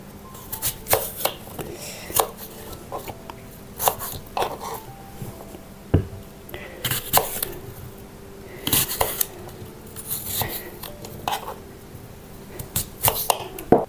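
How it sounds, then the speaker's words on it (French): A knife cuts through peeled apples on a board, making scattered sharp taps and crisp slicing knocks at an uneven pace, close and moderately loud, with quiet gaps between the cuts. "Donc là, je vais les couper comme ça."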